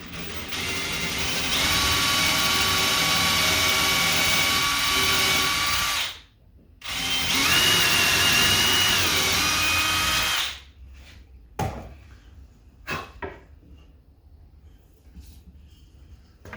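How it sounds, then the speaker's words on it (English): A power drill with a sharp bit whirs steadily through a kitchen cabinet in two long bursts with a short pause between, followed by a few scattered clicks and knocks. "Make sure you have a sharp drill bit, and we're going to drill straight through."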